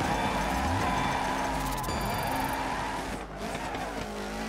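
Rally car engine revving hard with tires squealing as it spins in a gymkhana spin zone in Dirt 3, a loud continuous roar with rising pitch sweeps throughout.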